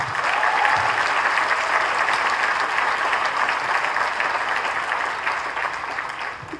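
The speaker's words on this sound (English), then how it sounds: "Let's give another round of applause." Queensborough Community College's 2005 commencement audience breaks into a loud, continuous round of applause, a dense wash of clapping that stays even throughout and eases slightly at the close.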